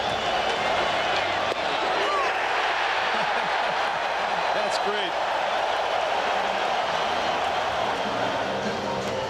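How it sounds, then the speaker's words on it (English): Dense, steady roar of a large baseball stadium crowd cheering and applauding at a 1997 Giants home game against the Dodgers in San Francisco, constant and loud throughout, with a brief spoken comment over it. "And listen to the crowd."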